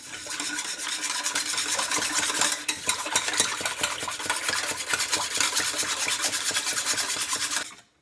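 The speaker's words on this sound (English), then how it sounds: "I'm just going to whisk this up real good" Milk, sugar and egg yolk for vanilla pudding are whisked briskly in a bowl, a fast, even rhythmic scraping that runs loud and steady for several seconds, then stops abruptly.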